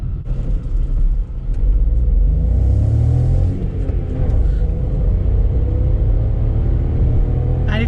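VW Polo 1.0 TSI car pulling away from a standing start, a low engine rumble that rises in pitch as it accelerates through the gears, loud and close inside the cabin with no talk.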